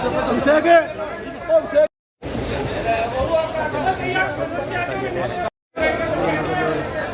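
A large crowd at a political rally in Churu fills the air with dense, steady chatter and babble, close and lively, with two brief dropouts of total silence.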